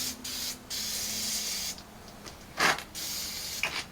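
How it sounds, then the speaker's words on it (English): Lubricant sprays onto seized bolts on an abandoned 1984 Freightliner cabover truck, several close bursts of hissing aerosol with short pauses between them. "We're just going to lube all this stuff up."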